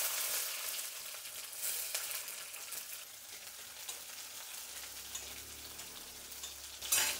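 Small red onions and mustard seeds fry in hot oil for katte pongali, giving a steady, close crackling sizzle that runs on alone, with a brief louder burst near the end.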